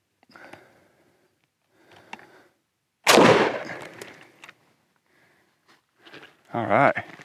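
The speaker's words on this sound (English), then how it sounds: "We have an SKS here, 20-inch barrel on this, a little longer than your typical AK, 15 meters again, so we'll put a shot on it." An SKS rifle with a 20-inch barrel fires a 7.62x39 round outdoors at a Level III poly body armor plate 15 meters away, one loud sharp crack that rings out briefly, with quieter sounds before and after.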